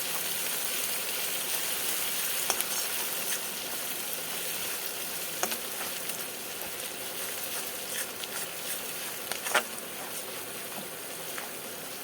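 Ginger and garlic paste frying in oil, a steady, even hiss with occasional soft pops and spoon taps, close and moderately quiet throughout.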